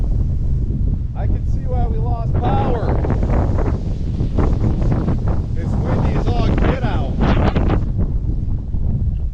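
Strong wind gusts buffet the microphone outdoors during a storm that has knocked out the power, a steady loud rumble running throughout beneath a person speaking.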